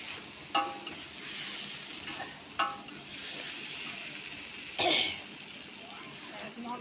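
Potato curry sizzles and is stirred in a pan, with a few sharp clanks and a burst of hissing as water hits the hot pot.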